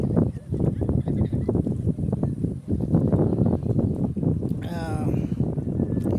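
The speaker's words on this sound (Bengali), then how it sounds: "আবার একটা ট্রলার আসছে" A trawler boat passes on a river, its engine a steady low drone under continuous talk, with gusts of wind noise across the microphone.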